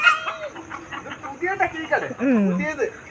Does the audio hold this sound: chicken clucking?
yes